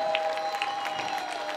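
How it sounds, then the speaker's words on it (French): An audience applauds at a wrestling gala, with a steady patter of clapping from a crowd at moderate distance, under a sustained tonal hum throughout. "Bravo, on peut les applaudir"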